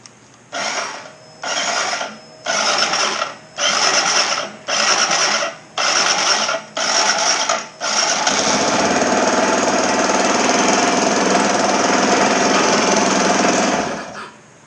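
A rebuilt Kawasaki Z125 Pro motorcycle engine, with the rear brake locked, starts up with a string of short loud bursts and then settles into a steady, close, droning run for several seconds before cutting off. No one speaks.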